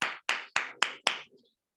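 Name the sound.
audience applause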